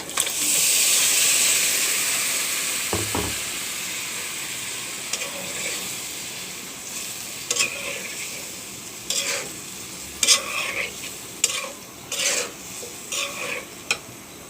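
Fish roe fries in a pan, starting with a loud, steady sizzle that fades into a softer hiss, followed by repeated scraping and clinking strokes as it is stirred.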